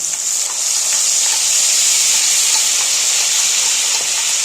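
Paste of onion, black pepper, green chilli and garlic sizzling in a hot pan, a loud, steady, bright hiss close up and alone, without speech.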